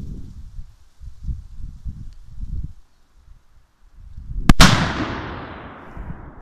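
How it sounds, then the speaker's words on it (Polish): Low crackling and sputtering of firecrackers in a pot give way to one sharp, loud bang that blows the pot apart, followed by a long hissing, rattling decay of scattered debris. "Te petardy się nie nadają do garnków."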